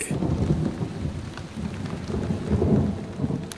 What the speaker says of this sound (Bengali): বৃষ্টি কিন্তু বাড়ছে বাইরে